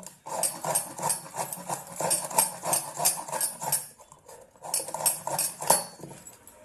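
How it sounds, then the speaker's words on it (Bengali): Beetroot being grated gives rhythmic rasping strokes, about a dozen close scrapes in steady succession with a short pause partway through. "এইভাবেই বিটগুলো ভালো করে কুড়িয়ে নিচ্ছি"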